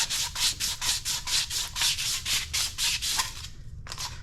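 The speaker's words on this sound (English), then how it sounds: "So what you normally do is you sand it, makes it a little rough." Sandpaper roughing up a glossy pipe in a commercial bathroom, rapid steady back-and-forth rasping strokes, close and even, about eight strokes, then a brief pause and one more.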